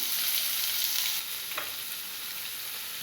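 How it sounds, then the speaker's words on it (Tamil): Onions fry in hot oil with popped mustard seeds, a loud, steady sizzle that eases slightly after a second, then keeps crackling close by. "கடுகு பொரிஞ்சதுக்கப்புறம் நம்ம நறுக்கி வச்சிருக்கக்கூடிய வெங்காயத்தை ஆட் பண்ணிக்கலாம்."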